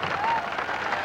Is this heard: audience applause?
yes